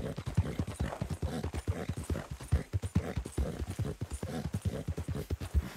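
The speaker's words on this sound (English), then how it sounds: "My horse isn't half grunting and puffing and panting." Horse in the video game Red Dead Redemption 2, hooves clip-clopping in a steady rhythm with heavy breathing and snorting mixed in, moderately close, no talk.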